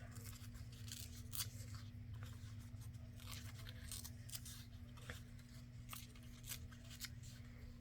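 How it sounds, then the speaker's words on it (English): Paper torn from book pages for paper flowers, a run of faint close ripping and scratchy crinkles over a low steady background hum, no voices. "And we'll tear our corners off."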